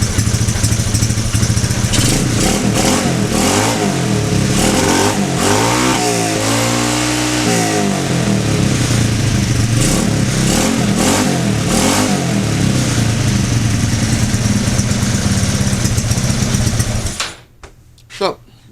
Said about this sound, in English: when you start the motor everything rattles